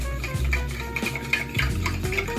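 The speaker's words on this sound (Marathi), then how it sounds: "आणि मीठ हे दूध जरा ढवळून घ्यायचं." A spoon stirs milk with sugar and salt in a metal pan, scraping and clinking in quick, close strokes against the sides, loud and uninterrupted without speech.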